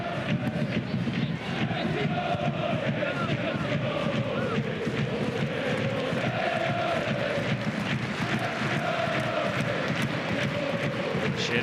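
Football crowd singing at an A-League match between Perth Glory and Wellington Phoenix, a sustained distant chant rolling through the stadium under a commentator's voice.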